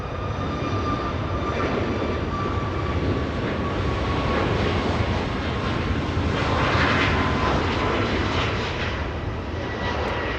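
A KLM Boeing 787 Dreamliner in KLM 100 livery arrives at Los Angeles International Airport. Its broad, steady jet-engine roar holds at a constant level throughout and swells a little near the end, with no talking.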